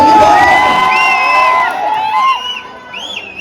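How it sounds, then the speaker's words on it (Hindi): A crowd at a live comedy event in Patna whoops and cheers, with several sharp rising-and-falling whistles cutting through, loud at first and thinning out toward the end. "एक बार सीटी और ताली होना चाहिए।"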